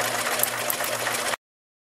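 A sewing machine stitches close to the edge of fabric while a child's maxi dress is refashioned, giving a quick steady whirring hum for just over a second before it stops abruptly.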